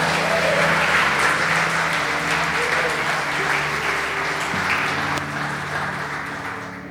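A congregation applauds steadily during a church sermon with a low sustained musical tone underneath, the clapping gradually fading toward the end.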